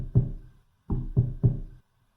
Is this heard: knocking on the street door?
yes